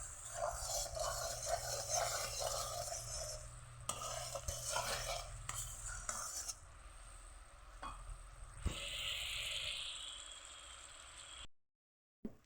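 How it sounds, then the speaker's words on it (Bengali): Melting sugar syrup for sago payesh being stirred steadily in a pot, with a soft continuous scraping and light bubbling that shifts in texture partway through, ending in brief silence. "অনবরত এটাকে নেড়ে চেড়ে নিতে হবে"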